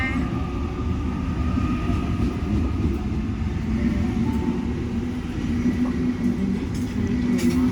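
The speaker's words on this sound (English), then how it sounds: "Just here to film a few trains at Epping today." A train passes at Epping station on the London Underground, a steady loud rumble of wheels and motors with a sustained low drone and faint squeals, and no clear voices.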